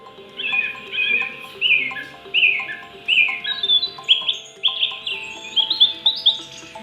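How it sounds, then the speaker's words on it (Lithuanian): Quiet forest soundscape played in a hospital corridor, with birdsong in a repeating pattern of short chirps and squawky calls at an even pace, clear and close over a soft steady background hum. "iš koridoriaus ima sklisti ramūs miško garsai, tylus paukščių čiulbėjimas"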